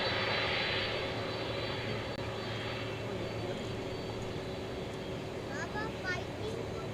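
An airplane on the runway at DFW Airport gives off a steady, droning engine roar that stays loud throughout, with talking faintly mixed in beneath it.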